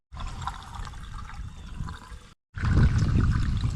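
Water from a roadside hookup runs steadily into a small camper's water tank, a continuous splashing rush that pauses briefly and then resumes louder and fuller.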